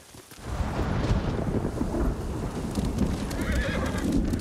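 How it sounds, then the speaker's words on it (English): Thunder rumbles through a stormy scene in Ghost of Tsushima, a sustained low roll under rain, with a horse whinnying and hooves clopping nearby. "it's been thundering for a while now"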